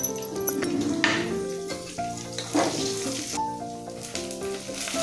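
Ginger, garlic and chillies sizzling in a frying pan with onions for an egg curry, a steady crackling fry with a few spoon stirs and clinks against the pan.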